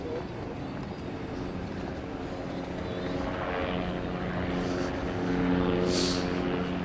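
An airplane takes off from Boston Logan International Airport across the harbor, a distant, steady engine drone that grows slightly louder, heard outdoors over wind and background noise.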